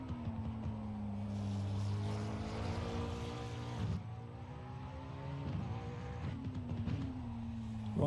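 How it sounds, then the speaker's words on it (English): A racing car's engine at the Hungaroring in a racing video game, a steady high drone with rising revs, a few sharp gear-change dips and renewed climbs, quite close and alone. "let's listen to this car"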